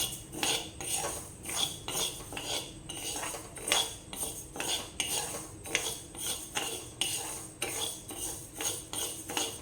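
Sago pearls being stirred as they heat in a dry pan, a rhythmic series of scraping, rattling strokes of a spoon against the pan, repeating steadily about once a second with no talking.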